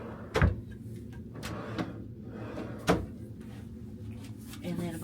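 Deep drawers in a Sun Princess deluxe balcony cruise cabin slide and knock shut, two or three short thumps and clacks spread over a few seconds amid quiet room tone.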